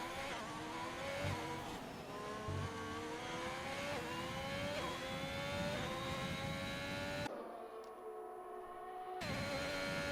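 Ferrari race car in a racing video game, its engine droning and climbing in pitch steadily, with a brief drop-out near the end before the engine returns.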